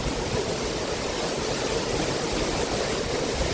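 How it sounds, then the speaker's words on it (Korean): A waterfall at Hongryongsa temple in Yangsan, Korea, roars as a loud, steady broadband rush of falling water, close and continuous, with no voices heard. "양산 동룡사 폭포입니다."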